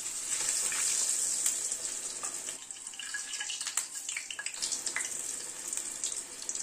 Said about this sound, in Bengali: উল্টে পাল্টে 2টো দিকে লাল করে ভেজে নিচ্ছি